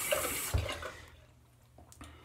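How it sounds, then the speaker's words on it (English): Tap water runs for a cold rinse after a wet shave, a brief bright splashing rush that fades quickly and is followed by quiet, with no talking. "go for the cold water rinse"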